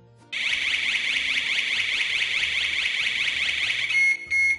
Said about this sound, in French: le bouton en bas à droite, dit bouton SOS, déclenche la sirène à tout moment.